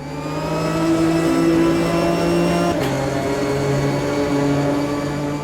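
Ginetta race car engine in the sim racing game Automobilista 2, a steady loud mid-pitched drone holding revs with a brief shift dip midway, continuous and close with no voices.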